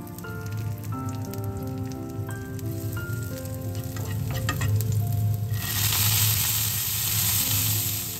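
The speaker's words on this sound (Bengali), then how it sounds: "তেলটা গরম হয়ে আসলেই তাতে অল্প একটু কালো জিরে, লঙ্কা কুচি আর রসুন কুচি ফোড়ন দিয়ে দেবো" Nigella seeds, chopped chilli and garlic tempered in hot mustard oil give a steady, close sizzle that swells into a louder, hissing burst partway through.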